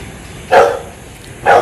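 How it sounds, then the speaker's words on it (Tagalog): A dog barks twice, two loud close single barks about a second apart over a quiet background hiss. "Aso lang uh"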